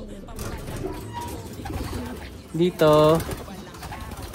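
Domestic pigeons cooing in a loft, one short low coo and then a louder, longer one at close range, with someone talking briefly nearby.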